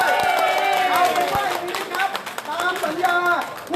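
Crowd clapping at a street rally of young people in Nonthaburi, Thailand, rising under loud overlapping voices and shouting, steady and close throughout.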